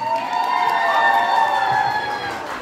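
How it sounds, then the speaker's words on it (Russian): Children's camp audience at a team show, with steady loud applause and cheering, shouting voices rising above a dense crowd for a few seconds. "Встречаем громкими аплодисментами."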